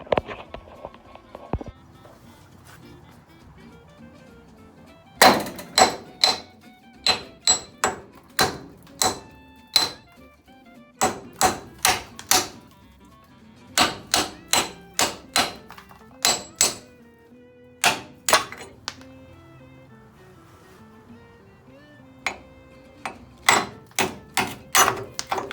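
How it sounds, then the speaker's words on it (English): Repeated sharp metallic hammer blows knocking a rear luggage rack off a Checker Cab A4, loud and close, striking in irregular bursts with brief pauses over about twenty-five seconds. "now I'm just gonna hammer it and knock it off and wrap up"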